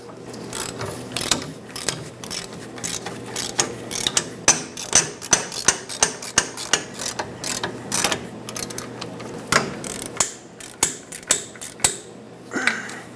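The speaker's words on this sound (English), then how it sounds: "I'm gonna raise this up a little with the pull jack." A pull jack ratchets up the suspension of a 1999-2007 Ford F-350 during an air bag spring install, giving steady, close, loud clicking strokes in a repeated rhythm for about thirteen seconds, with no talk.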